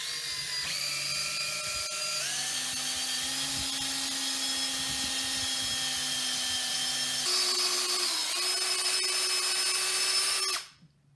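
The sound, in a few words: power drill drilling holes in wood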